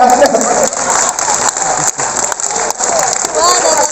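A crowd claps and cheers at a Holi-special comic poetry gathering in Lucknow, with a steady wash of hands and voices filling the whole stretch and some talk mixed in.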